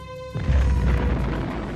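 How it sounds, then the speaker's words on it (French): A nuclear explosion effect: a sudden deep boom that swells into a sustained low, loud rumble, preceded by a brief tonal hum. "explosion nucléaire"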